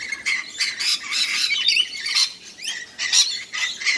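Cockatoos squawking loudly and repeatedly outdoors near a deck, harsh screeching calls overlapping in bursts with no talking.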